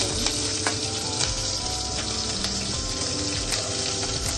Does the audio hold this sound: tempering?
yes